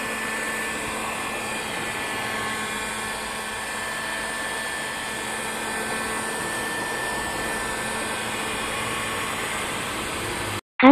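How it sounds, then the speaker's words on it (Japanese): An industrial dryer blows steadily to dry a freshly painted car brake caliper, a loud, even rushing hiss that runs alone for about ten seconds before cutting off abruptly. "早く、乾かすために、高揚用ドライヤーを使います。"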